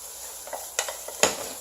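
Onions frying in a pan for shakshuka, a soft steady sizzle broken by a few sharp clinks and scrapes of a utensil stirring against the pan, close and without talking.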